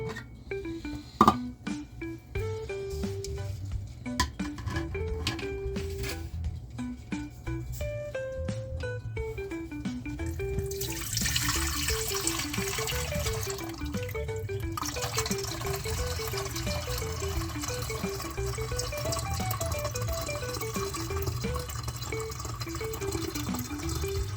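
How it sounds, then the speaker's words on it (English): Homemade Jamaican ginger beer is strained into a jug, a steady broadband pour or gush of liquid that swells about halfway through, under louder background music with a melodic line. "So now I'm going to strain it in my jug"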